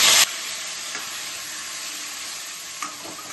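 Onion and garlic paste hitting hot oil in a kadai, a loud burst followed by a steady, dense sizzle with a faint stir or two.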